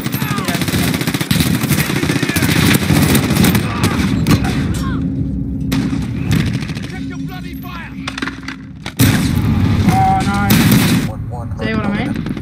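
Shotgun blasts and rapid gunfire in the video game Call of Duty Modern Warfare, dense and loud with overlapping shots, explosions and game effects filling the whole stretch, with brief quieter gaps between bursts.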